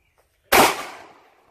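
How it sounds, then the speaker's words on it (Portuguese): A single sharp gunshot rings out at a shooting range target during a basic firearms course, loud and close, with a short decaying echo after a quiet lead-in. "Põe lá no meio do alvo e atira."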